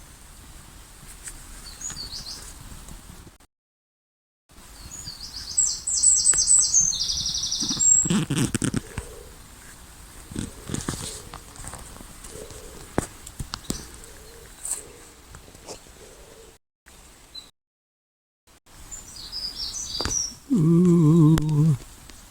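Outdoor woodland bird song with chirps, tweets and dove-like coos, scattered through the recording with brief gaps and a louder burst of calls near the end, no talking.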